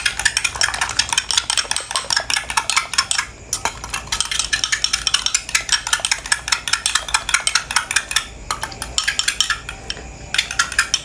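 Egg sautéing in a pan with rapid, continuous clinking and scraping of a utensil against the pan, close and busy, with a brief pause a few seconds in.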